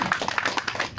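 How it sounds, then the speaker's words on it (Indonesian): Brief hand clapping from an audience at a legal aid outreach session for waste pickers, a quick run of close, uneven claps lasting about a second. "Tepuk tangan dulu dong Pak"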